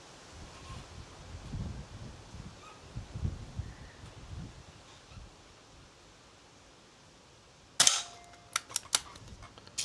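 An S400 air rifle firing at a metal paddle target outdoors, a single sharp crack followed by a few quick metallic pings and clatter over quiet ambient rustling.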